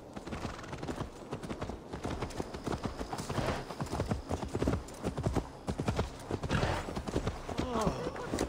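Horse hooves clip-clop steadily in Assassin's Creed Valhalla, a brisk rhythmic trot heard close, with spoken dialogue running over the hoofbeats throughout.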